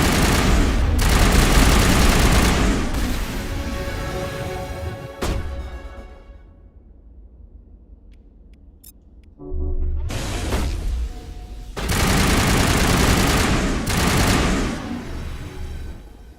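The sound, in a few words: gunfire in the Mass Effect Legendary Edition video game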